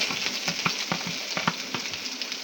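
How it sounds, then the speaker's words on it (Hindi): Onions tossed onto browned garlic in hot oil, for samosa filling, crackle and sizzle steadily up close while a spoon scrapes and stirs in short repeated strokes. "लहसुन ब्राउन हो गए हैं। अब हम इसमें डाल देंगे प्याज,"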